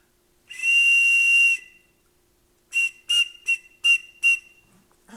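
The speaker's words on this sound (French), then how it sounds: "c'est un sifflet. Je dois souffler pour produire un son avec ça." A shrill whistle is blown once in a long blast, then after a pause in five short sharp toots, close and loud.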